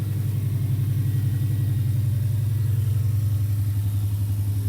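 A turbocharged 1994 Subaru Legacy Touring Wagon engine runs steadily after starting, with a loud, even low-pitched pulsing idle and no talk over it.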